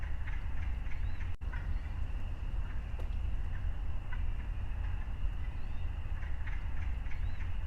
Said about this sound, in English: I do hear in the background what I think is wood ducks.